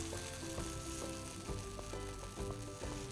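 Rava appam batter frying in hot oil makes a loud, constant sizzle with bubbling crackle, overlaid by a few clinks and light knocks from a utensil on the pan, with no talking.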